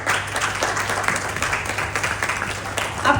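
Audience applause at a launch event for a VR temple darshan, a short burst of steady, fairly loud clapping from a crowd, continuous with no pause, over a low steady hum.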